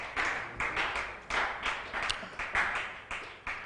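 A conference audience claps for the session moderators in steady, close bursts of applause. The claps come in a loose rhythm and stay fairly loud throughout.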